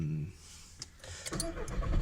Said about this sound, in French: Je vais reculer la voiture pour pouvoir